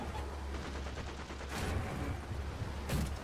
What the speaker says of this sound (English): I got 50 cals incoming.